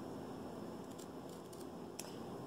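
Scissors snip through a Batman cowl mask in short clicks, a few faint cuts near one second and a sharper snip at two seconds over a quiet room hum.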